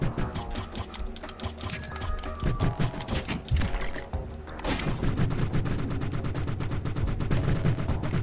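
Rapid gunfire crackles in a fast-paced action video game, dense repeated shots layered over driving background music with a steady rhythmic pulse.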